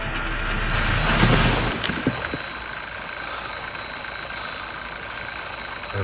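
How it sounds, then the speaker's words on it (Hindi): An alarm clock rings with a steady, high-pitched electronic tone that starts shortly after the beginning and continues loudly to the end over low background rumble. "वो अलार्म बंद करना।"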